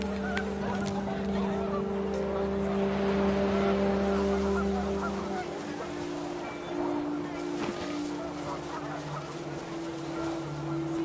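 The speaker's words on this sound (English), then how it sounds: "The wind picked up and panicked geese appeared and quickly went." Panicked geese honk repeatedly in the video game What Remains of Edith Finch, their cries overlapping amid a windy background rush at moderate distance.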